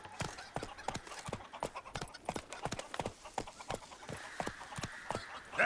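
Hooves of the horse Roach pound in a steady galloping rhythm in The Witcher 3, crisp and close, continuing for several seconds with faint background sounds.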